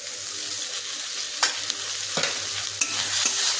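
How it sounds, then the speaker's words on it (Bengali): Curry masala with mustard paste being stir-fried for a fish curry with bitter gourd and potato, a loud continuous sizzle broken by a few sharp scrapes of a spatula against the pan. "আবার ভালো করে কষিয়ে নিচ্ছি"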